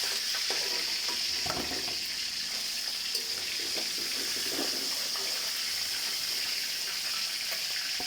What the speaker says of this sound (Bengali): এবার আমি রুই মাছগুলো ভেজে নেব একে একে।